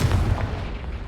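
A Confringo fire spell in Hogwarts Legacy goes off as a booming, dense blast with a low rumbling body. It sustains for about a second, loud and close.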